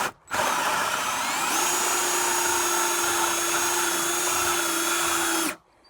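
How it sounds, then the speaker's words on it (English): A power drill with a hole saw spins up and cuts steadily into tough wood with a loud, sustained whine, then stops abruptly. "now we have our drill with the hole saw"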